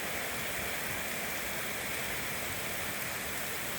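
Rain comes down steadily after a long spell of heat, making a broad, unbroken wash of close patter with no talk.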